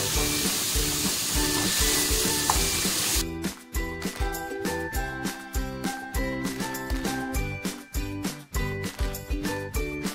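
A spice paste sizzles and fries loudly in a hot pan while a jackfruit and prawn curry is cooked, with steady hissing for about three seconds before music takes over with rhythmic beats.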